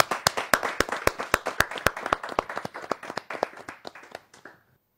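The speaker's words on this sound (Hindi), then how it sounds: "मैं जोरदार तालियों के साथ मैं अभिनंदन करता हूं" Audience at a Hindi poetry gathering clapping loudly, sharp distinct hand claps in a quick rhythm that soon become less regular and fade out over a few seconds.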